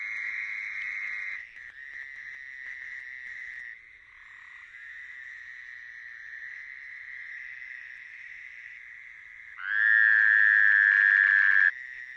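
A Fowler's toad gives a long, nasal buzzing trill, sustained and fairly loud, followed after a short pause by a second, louder burst, on a beach in May.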